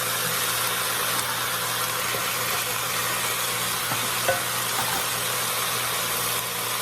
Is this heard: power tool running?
no